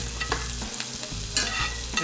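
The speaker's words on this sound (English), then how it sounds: "I'm gonna start basting the steak." A boneless ribeye steak basted with melted butter and thyme in a hot pan: busy spattering sizzle with spoon scrapes and a sharp spit of butter near the end, close and brief.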